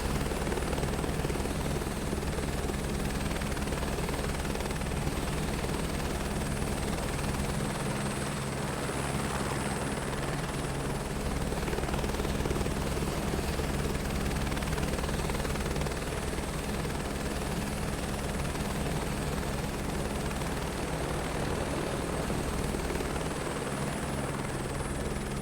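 Helicopter flying over winding mountain switchbacks and a saddle on the Lahaul and Spiti loop, a steady loud rotor and engine drone with a constant low thump, continuous and close throughout.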